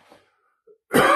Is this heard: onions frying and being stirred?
no